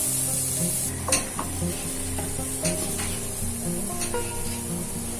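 Carrots and beans sizzle and hiss in a hot pan for hot and sour vegetable soup, with a spoon stirring and clinking against the metal in bursts over continuous frying noise.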